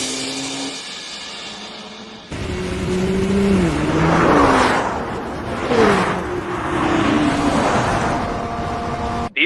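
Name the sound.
race cars accelerating at full throttle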